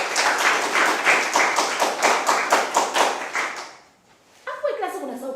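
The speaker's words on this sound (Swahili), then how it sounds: "Mpigieni makofi" Classroom applause breaks out after a pupil gives a correct answer: several seconds of dense, rhythmic hand clapping from a group of children, fading out before a voice begins speaking.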